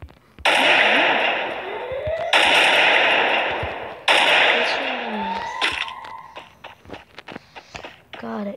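Bursts of automatic gunfire and shots in the Free Fire mobile video game, loud sustained volleys with short pauses, then scattered single shots and footsteps, with a person talking over the action.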